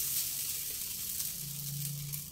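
An aloo masala kulcha, water-moistened side down, sizzles on a well-heated tawa over a gas stove: a soft, steady frying hiss with a faint low hum, no voices.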